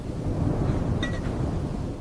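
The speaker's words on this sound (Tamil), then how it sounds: "மழை இன்னும் பலமாக பெய்கிறது" Heavy monsoon rain pours over an animated village, a dense, loud rumbling roar like thunder and downpour that holds steady from start to finish, with no talk.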